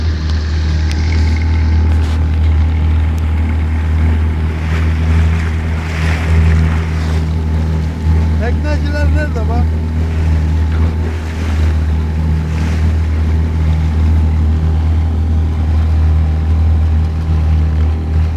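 A fishing boat's engine drones steadily as it moves over the sea, with wind rushing across the microphone and waves washing throughout.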